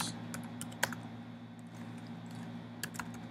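Keys tapped on a computer keyboard to enter a search, a few scattered quiet clicks with one sharper keystroke, spaced out over a faint steady background hum.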